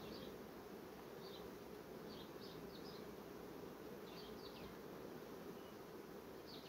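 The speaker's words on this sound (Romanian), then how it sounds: "Albina asta care culege acum va muri." Honeybees from a honey-gathering swarm hum steadily around an open hive, a dense continuous buzz with occasional nearer passing bees, no talk.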